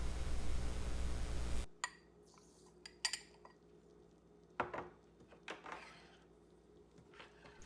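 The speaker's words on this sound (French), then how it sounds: "Je mélange bien avec une petite cuillère" A small teaspoon stirs warm milk with dry yeast in a bowl for a homemade brioche, giving a few light, close metallic clinks and scrapes spaced out over quiet, with no talking.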